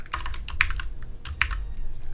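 Rapid, uneven clatter of keys on a computer keyboard while coding a programming puzzle solution, close and crisp, with bursts of keystrokes and short pauses, no talking.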